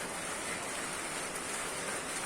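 Steady rain falls outside a small type 36 house, producing a constant, even hiss of moderate loudness with no breaks, no voices and no distinct individual drops.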